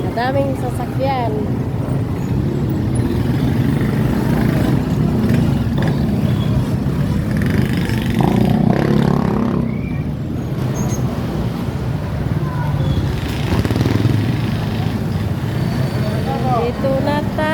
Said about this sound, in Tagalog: Daming sasakyan.